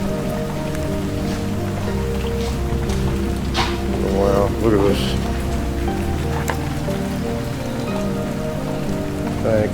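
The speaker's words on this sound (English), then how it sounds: "I don't want to go over there because of the rain." Rain falling inside an abandoned sanatorium, a steady dense patter and hiss throughout, with a person speaking briefly over it.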